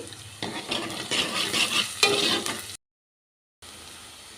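Onions and a pinch of asafoetida fry in oil with a close crackling sizzle and busy stirring scrapes, rising then stopping abruptly into a moment of silence before a quieter sizzle resumes.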